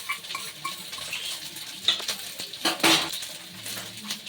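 Mung dal poured into a pot of hot water while cooking sama rice khichdi, giving a rattling, clinking spill of grains against metal with scraping bursts and a louder clatter near the end, close and without talk.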